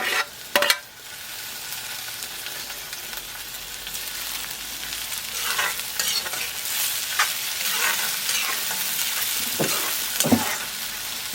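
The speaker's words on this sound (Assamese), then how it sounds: "এনেকৈ অলপ লৰাই থাকিব।" Chicken fry with chopped tomatoes stirred in a hot pan, steady loud sizzling throughout with scraping spoon strokes against the pan now and then and a clatter near the start.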